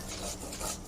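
Bottle gourd leaves being ground into a paste, giving two soft, rough scraping strokes, faint and close, with no voices.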